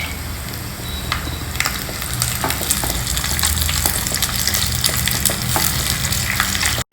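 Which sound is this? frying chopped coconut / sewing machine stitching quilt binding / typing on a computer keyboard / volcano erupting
frying chopped coconut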